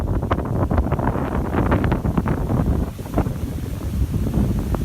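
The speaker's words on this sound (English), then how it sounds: "it's like super windy." Strong gusting wind on a Philippine island beach buffets the microphone with a constant loud rumble, continuous throughout with no voices.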